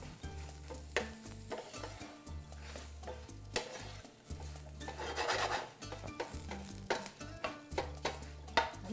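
Filet mignon browns in a hot pan with a soft crackling sizzle, and a utensil scrapes and pushes the meat in irregular bursts; the sound stays fairly quiet and has no voices.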